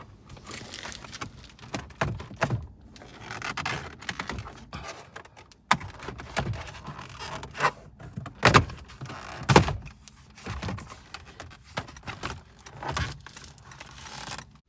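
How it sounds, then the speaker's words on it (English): A plastic interior trim panel comes away from a Toyota car, with irregular clicks, snaps and rattling knocks scattered through the stretch and quiet gaps in between, all close by and with no talk. "After which we can pull this whole trim off."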